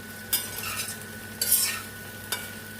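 Okra sautéing in oil in a pan, stirred in three distinct scraping strokes over a steady low sizzle, close and clear with no talking.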